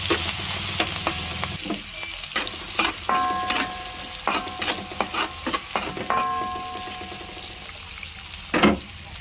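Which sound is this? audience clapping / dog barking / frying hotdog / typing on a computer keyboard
frying hotdog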